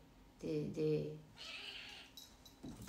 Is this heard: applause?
no